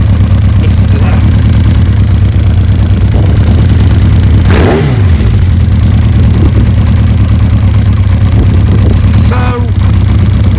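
Yamaha Diversion 600 motorcycle engine running steadily at a low idle just under 1,000 rpm, then a single sharp rev that rises and falls back to a smooth, even tick-over, close and loud.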